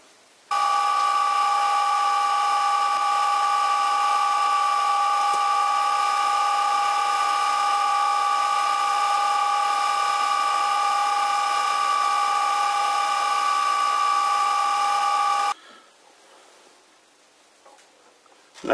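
A metal lathe cuts the taper of a screw-on drill chuck arbor, a steady high tonal ring holding for about fifteen seconds before it stops abruptly and leaves faint shop ambience.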